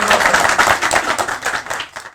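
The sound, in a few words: audience applause welcoming a poet at a mushaira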